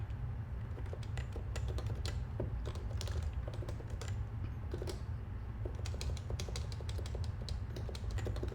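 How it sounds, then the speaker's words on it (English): Steady, rapid clicking of keys on a computer keyboard, close and moderately quiet, continuing with irregular rhythm over a constant low background hum. "Can't type today either."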